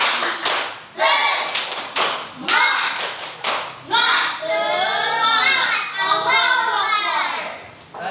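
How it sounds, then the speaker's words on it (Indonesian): A group of children performs a rhythmic spirit clap, sharp claps in a patterned beat, close and loud, with excited young voices chanting and cheering between and over the claps. "semuanya tepuk semangat"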